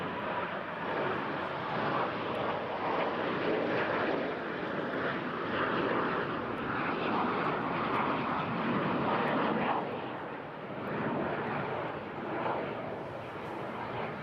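A BAC Strikemaster jet flying close formation aerobatics at the Eastbourne International Airshow, heard as a steady, loud broadband jet roar that swells and dips slightly over the full length with no speech.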